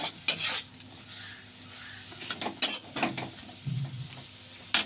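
Radish greens frying in a pan, heard as a soft sizzle under intermittent scraping and clattering strokes of a spatula against the pan, close and uneven.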